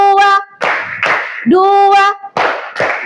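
Group hand clapping in a counted clapping game during a religious lesson: several bright clap bursts, each separated by voices calling out the count, all near and loud.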